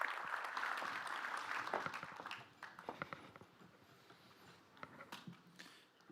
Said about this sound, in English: His Excellency Irakli Kobahidze. A big round of applause, please